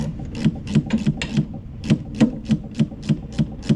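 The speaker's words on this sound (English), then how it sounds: "Now just get the battery clamp tightened down." A wrench tightening the battery clamp on a Bobcat S330 skid steer loader makes a steady series of close, rhythmic ratcheting scrapes, about three per second.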